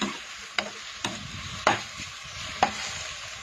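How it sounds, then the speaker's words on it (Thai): Mushrooms cooking in a pan and being stirred, a low sizzle broken by four sharp scraping knocks of a utensil against the pan, close and moderate in level. "รอให้เห็ดสุกก่อนจ้า"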